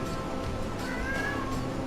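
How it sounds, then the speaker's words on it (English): A pet cat meows in the background, a brief faint cry partly masked by steady game music and ambient noise. "don't know if y'all can hear our kitty meow in the background"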